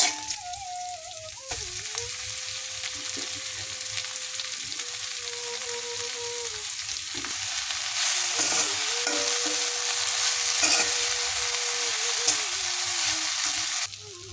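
Mixed leafy greens fry in hot oil with browned onions in a pan while being stirred, giving a steady, close sizzle for the whole stretch, with a faint tonal hum underneath and no talking.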